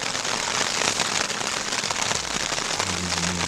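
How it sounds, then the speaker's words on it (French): Steady, dense rain hisses and patters continuously on surfaces at a mountain campsite by the Lacs de Morgon, Mercantour, loud and close, with a low rumble of distant thunder underneath toward the end. "Ça fait 1 heure qu'il pleut."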